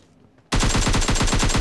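Rapid automatic gunfire from PUBG Mobile Lite bursts in loudly after a short quiet stretch, a fast steady rattle of shots that continues to the end.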